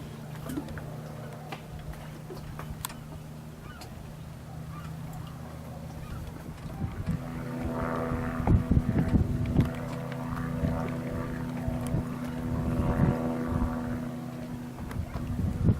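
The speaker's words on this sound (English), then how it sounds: "This is a float plane that is landing in Hornby in Tribune Bay." A float plane lands on the water of Tribune Bay off Hornby Island, its engine a steady low drone that rises into a rougher, louder rumble with splashing partway through, while voices talk faintly nearby.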